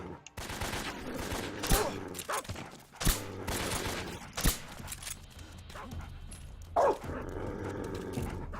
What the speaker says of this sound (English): Oh, the freaking dogs are underneath me.